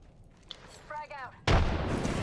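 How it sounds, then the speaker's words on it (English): A frag grenade explodes in the Apex Legends battle royale game, a sudden loud broadband blast that sustains as a roaring rumble after brief voice chatter. "Frag out."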